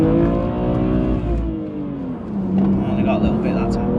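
A BMW M2 Competition's engine drones and rises while the car is driven hard, a steady loud note with shifting pitch under a voice.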